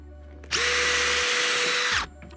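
A big power drill bores into wood for a sawhorse hinge, a loud steady whine lasting about a second and a half before spinning down, with no talking.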